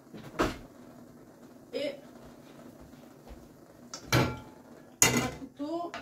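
Rummaging through a kitchen cupboard and drawer for a wooden spoon, with a few separate knocks and clatters of doors and utensils spread apart, and brief speech near the end.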